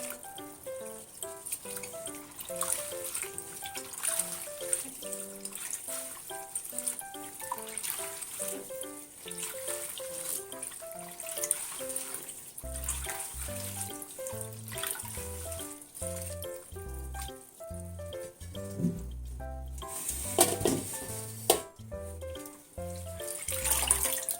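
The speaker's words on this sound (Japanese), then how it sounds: "はい、また洗いますね。" Red shiso leaves rinsed under running water, a soft continuous trickle and splash from the tap at close range, partly masked by rhythmic background music playing throughout.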